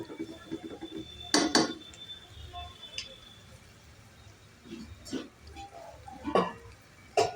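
A utensil scrapes and stirs spices with a little water in a pan while cooking palak paneer, giving a few sharp metallic clinks and knocks between quieter gaps, fairly close and moderately loud.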